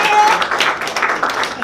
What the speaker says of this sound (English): Again, give them a big round of applause.